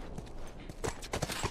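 Hooves of a horse clip-clopping during a cutscene in The Last of Us, a few irregular thuds close by over a rustling, noisy background, with no speech.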